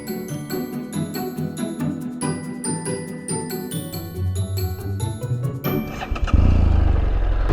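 A BMW F800GS motorcycle fitted with an Akrapovic exhaust, heard up close: a metallic tinkling and ticking sequence gives way to the engine firing with a sudden deep burst, then settling into a steady, throaty running rumble.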